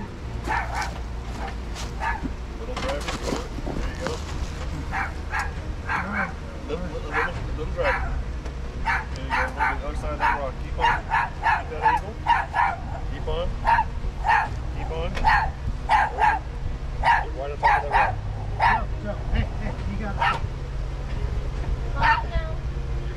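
Dog barking repeatedly near an off-road trail, a long series of sharp yips and barks over a low idling engine rumble, with people talking now and then.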